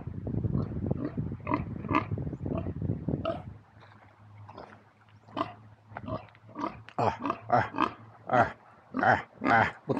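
Pigs on a beach property in Gitagum grunt repeatedly at close range, a continuous low rumbling at first, then a quicker string of distinct, rhythmic snorts and oinks.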